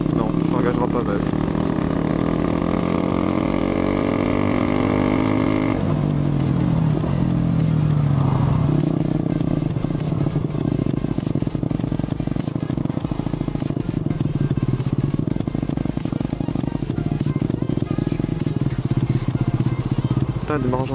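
A motorcycle engine cranks and catches, with rising then wavering revs in the first seconds, then settles into a loud, rough, rattling idle for the rest of the stretch, close by, with someone talking over it.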